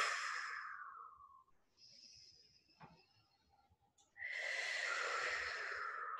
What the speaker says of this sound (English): inhale through the nose, and we're going to exhale the sound WHO, like you're blowing out a candle